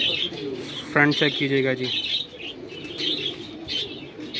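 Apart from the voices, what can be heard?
Amritsari female pigeon cooing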